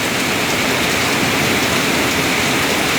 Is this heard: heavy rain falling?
yes